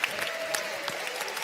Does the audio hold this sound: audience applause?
yes